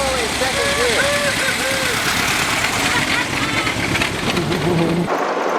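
Vehicle engine running steadily in second gear on a dirt trail, a loud continuous mid-pitched drone with some wavering tones, cutting off abruptly near the end.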